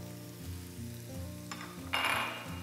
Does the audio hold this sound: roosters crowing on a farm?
no